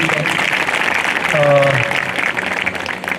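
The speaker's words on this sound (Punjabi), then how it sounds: "ਅਰੇ ਜੁਰਦਾਰ ਪ੍ਰਭੂ ਯਿਸੂ ਦੇ ਲਈ ਤਾੜੀ ਦਾ" A church congregation at a testimony service breaks into dense, sustained applause that fills the room throughout, with a voice briefly audible over the clapping.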